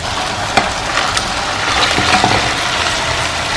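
A spoon scrapes and clacks through crab masala with potatoes in a sizzling pan, with a steady loud fry underneath and a few sharp knocks of stirring scattered across the stretch.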